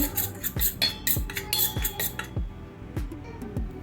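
A metal spoon clinks rhythmically against a bowl while stirring chili powder, salt and pepper powder for an omelette, about a dozen bright taps in a quick steady beat, close and clear with no talk.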